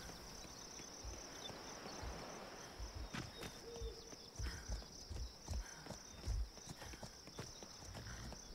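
Horse hooves clip-clop in the video game Atlas, a run of uneven mid-distance thuds over a steady ambient bed with faint cricket-like chirring and a high electronic whine.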